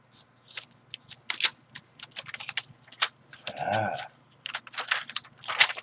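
An old computer keyboard being handled, with a scatter of irregular plastic clicks and clacks from keys and casing, close and fairly loud, plus a brief knocking rattle partway through.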